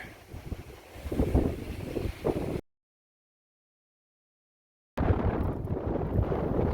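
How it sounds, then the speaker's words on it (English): Strong wind buffets the microphone on the summit of Mount Pinos, a loud continuous rumble that drops out briefly before roaring back. "Got a lot of sun up here, got a lot of wind up here."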